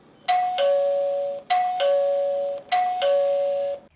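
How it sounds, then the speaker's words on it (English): A Lindo dual camera video doorbell chime rings three times in a row, each a clear two-tone ding-dong, loud and close with short pauses between repeats. "This is what it sounds like at your door when someone rings the doorbell."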